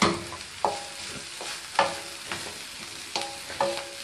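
Vegetable Hakka noodles being stir-fried in a pan, with a soft steady sizzle broken by repeated scraping and clanking strokes of the spatula against the metal at an uneven rhythm, close and fairly loud, no talking.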